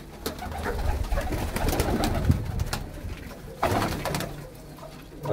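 Pigeons, including a golden one, coo steadily in low, throaty murmurs, several birds close together amid rustling and faint flock noise.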